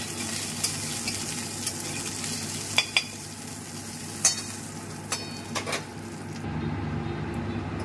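Dried red chillies crackle in hot oil for a tempering, a steady close sizzle with a few sharp pops scattered through, ending in a brief quieter hiss.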